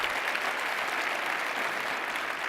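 Sustained audience applause fills a luncheon room at an aviation museum anniversary event, a dense even clapping from a seated crowd with no voices over it.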